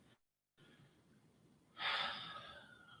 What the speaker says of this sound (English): I'm just going to breathe for a second.